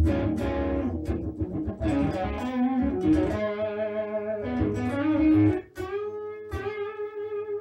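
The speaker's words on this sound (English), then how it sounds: "You can hear the highs rolling off." An electric guitar with its volume knob rolled off plays chords and single notes with a dark, muffled tone, its highs reduced, ringing out with slight effects.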